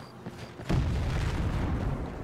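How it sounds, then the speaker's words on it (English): A deep, rumbling explosion booms in the distance in the Skyrim video game, followed by a lingering low roar of further blasts, with no one speaking. "Why are there explosions? Guards, are you not fussed by the fact that there are explosions"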